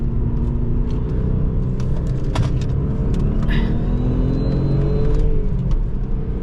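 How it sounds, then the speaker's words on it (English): A 265-horsepower Audi S4 B5 accelerating gently out of a corner, a steady, close engine rumble with rising whir as the revs climb, heard continuously from inside the car. "gently on the throttle, let it accelerate."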